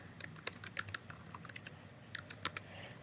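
Quick, close clicks of keys being typed on a computer keyboard while entering a new password, in an irregular burst of short taps with a brief pause midway, otherwise quiet.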